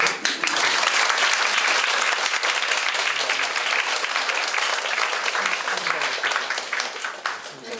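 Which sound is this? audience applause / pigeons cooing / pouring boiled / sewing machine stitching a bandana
audience applause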